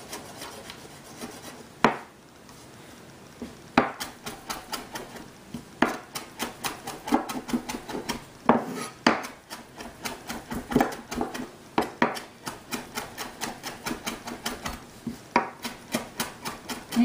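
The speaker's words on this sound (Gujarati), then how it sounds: "એને આપણે લઈને ઝીણી ઝીણી આઈટમ કાપી નાખશું" Vegetables chopped finely on a board for egg rolls: quick, rhythmic knife taps in steady bursts with short pauses, close and crisp.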